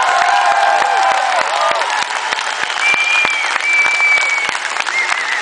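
A concert audience at a show in Sint-Niklaas breaks into loud, sustained applause and cheering, with dense clapping and scattered whoops and whistles running unbroken throughout.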